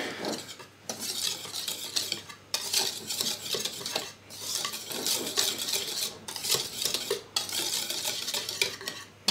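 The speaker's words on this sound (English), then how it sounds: "I'm just going to combine all these ingredients to get them nice and mixed up with a whisk" A whisk beats flour, cornstarch and salt in a bowl, making rapid, close scratchy swishing in bursts of a second or two with brief pauses between strokes, and no talking.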